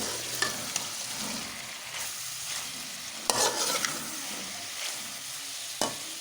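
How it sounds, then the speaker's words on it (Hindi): Turnip bhujia sizzling and frying in ghee in a pan while being stirred, a steady crackling hiss punctuated by occasional scraping clinks of the spoon against the pan. "घी वैसे तो अलग हो चुका है, फिर भी हम इसको थोड़ा सा भून लेंगे।"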